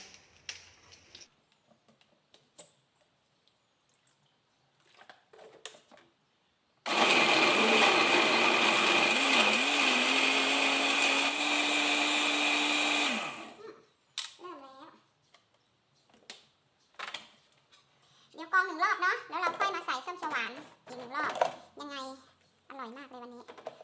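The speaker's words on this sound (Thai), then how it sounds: "ทีนี้เราเอา ปั่นใส่ส้มเขียวหวานนะทีนี้" A kitchen blender whirs loudly and steadily for about seven seconds, blending tangerine into a kale smoothie, with a rising pitch as it spins up. Someone talks before and after, and faint clatter follows.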